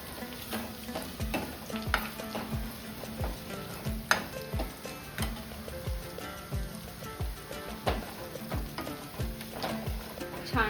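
A pan sauté for dal served with batti: a constant frying sizzle with rhythmic scraping strokes of a spatula stirring, close and moderately loud, with no one speaking.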